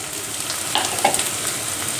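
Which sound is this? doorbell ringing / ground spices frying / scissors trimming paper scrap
ground spices frying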